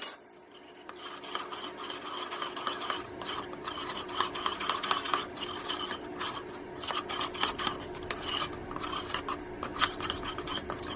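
A spoon stirs mica colorant in a small container for cold process soap, making quiet, continuous scraping and clinking strokes close by. No one speaks.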